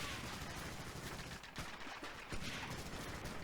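Sustained covering gunfire from rifles and machine guns on the Omaha Beach landing in Medal of Honor: Allied Assault, a steady dense rattle with a couple of louder close shots standing out.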